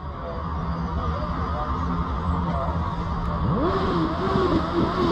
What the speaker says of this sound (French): Il ne faut pas oublier qu'il y a 140 motos.